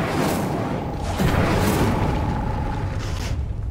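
The Incendio fire spell in the video game Hogwarts Legacy bursts out as a loud, deep roaring whoosh with a booming onset, sustained for a few seconds before easing off.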